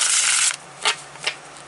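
A tarot card deck is riffled in one long papery burst, then two short flicks follow. The sound is close and dry, with no talking.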